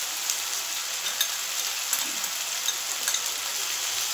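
Chicken stomach and meat fry with chilli powder, turmeric and salt in a pan, giving a steady close sizzle with a few small pops and no talk.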